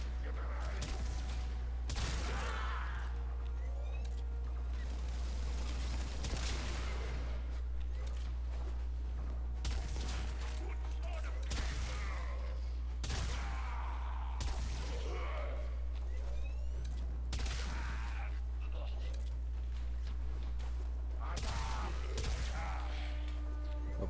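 Fulmin weapon fire during Warframe gameplay, with repeated loud bursts of shots spaced every few seconds over a steady hum, and faint talk in places.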